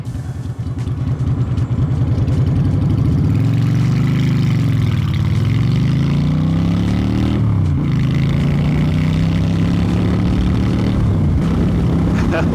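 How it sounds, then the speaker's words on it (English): A loud Honda VT750 Shadow motorcycle engine rumbles at idle with a deep, throaty exhaust, revving up and settling back a couple of times, close by. "I wasn't sure about the exhaust, and it is very loud"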